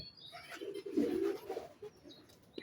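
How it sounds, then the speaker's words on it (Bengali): A king pigeon coos in a soft, low rolling murmur lasting a couple of seconds, close by, with a brief rise in the middle and no talking over it. "এটা আমার কিং কবুতর"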